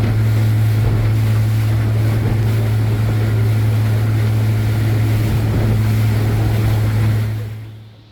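A motorboat runs with the wind across Lake Atitlan, a loud steady engine drone with wind buffeting and water rush that fades out at the end, with no voices.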